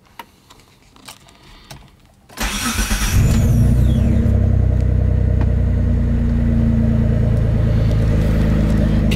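A car engine catches and settles into a steady, loud idle while warming up, rumbling on continuously after quiet rustling at the start.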